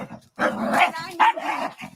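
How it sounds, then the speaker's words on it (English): A dog barks in an outdoor confrontation between people arguing, giving a couple of close, loud, yelping barks with whiny tails, separated by a short pause. "Aiden, take your barking in the house"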